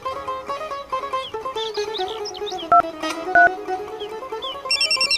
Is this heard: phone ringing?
yes